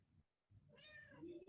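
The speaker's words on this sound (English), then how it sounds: "You can hear my cat." A single cat meow, drawn out and rising, fairly close but quiet against a hushed background.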